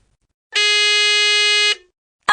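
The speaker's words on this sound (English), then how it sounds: "you press any button on your phone, and we'll hear a buzzer. Let's hear your buzzers." One harsh electronic quiz buzzer, triggered from a phone, sounds for about a second, stops abruptly, and a brief noise follows just before the end.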